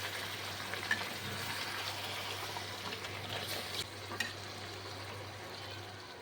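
Mutton and whisked sour yogurt stirred together in a frying pan for mutton bhuna, a soft, steady sizzle with faint scraping and a couple of brief clinks, moderately quiet and with no voices.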